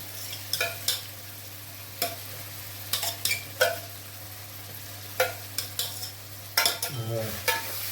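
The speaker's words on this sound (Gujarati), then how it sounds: "આ રીતે આપણે હલાવતું રહેવાનું કન્ટિન્યુ." A paste of green garlic and chilli is stirred in a pan, with sharp spatula scrapes and clinks landing in irregular bursts over a soft sizzle and a steady low hum, ending in a longer scraping sweep.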